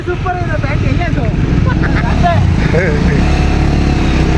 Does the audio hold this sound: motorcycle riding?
yes